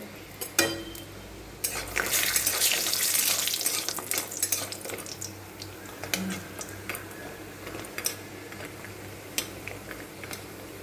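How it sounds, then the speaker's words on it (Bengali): Bori lentil dumplings fry in hot oil in a wok while mustard-green curry is being made, with a loud bubbling sizzle that peaks early and then settles, and scattered clinks and scrapes from stirring. "কড়াইতে তেল দিয়ে দিয়েছি আর এখানে বড়ি বড়িগুলো ভেজে উঠিয়ে নেব"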